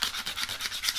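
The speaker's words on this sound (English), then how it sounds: "we'll start by sanding this down." Sandpaper rasps against a rubber tractor tire sidewall in quick, evenly repeated strokes, close and moderately loud.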